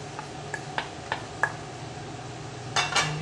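A utensil clinks against a bowl while minced garlic, sliced white onions, carrots and other kimchi ingredients are mixed, giving a few sharp separate taps, then a quick pair of louder clatters near the end, with no talking.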